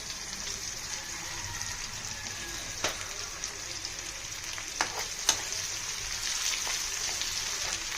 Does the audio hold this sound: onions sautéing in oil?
yes